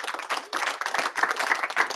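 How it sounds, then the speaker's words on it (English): Audience applause at a Python meetup talk, dense steady clapping from many hands filling a short stretch without pause, moderately loud and close. "Round of applause, please."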